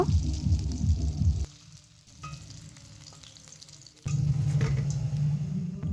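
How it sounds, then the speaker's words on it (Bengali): Dhoka lentil cakes deep-frying in hot oil in a wok make a dense, bubbling sizzle up close, which drops to a quiet stretch of faint clinks midway before the loud frying returns. "বাকি ধোকাগুলো ঠিক একইভাবেই ভেজে নেব"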